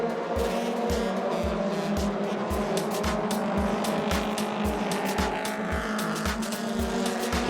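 Stock cars racing at Kingsport Speedway, a loud, continuous engine roar with a regular pulse of cars sweeping past close by, tires squealing now and then.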